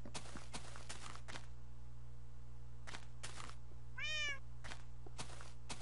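A single meow from a Minecraft cat rises clearly midway, amid quiet soft thuds and clicks over a constant low hum; no one speaks.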